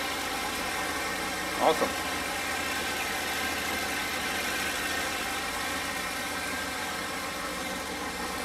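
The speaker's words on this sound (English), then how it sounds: "Turbo spinning nicely." A 408 cubic inch LS engine with a turbo and 100 lb/hr fuel injectors runs at a steady idle, a continuous, even drone with a high whine layered on top and a brief spoken word partway through.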